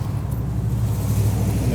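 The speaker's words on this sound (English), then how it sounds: "And the truck goes." A truck drives past with a steady low engine rumble, fairly close and constant for under two seconds, no voices.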